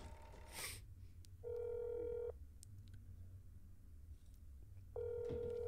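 Video game telephone call being placed: a short burst of dialing, then two separate ringback tones, each lasting under a second, heard fairly clean over a low steady hum, with no voices.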